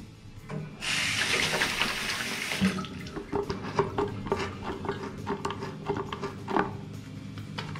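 Hands are washed under a running household tap. Water gushes steadily for about two seconds, then breaks into splashes and rubbing sounds as the hands move through the stream, with no talking.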